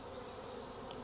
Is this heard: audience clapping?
no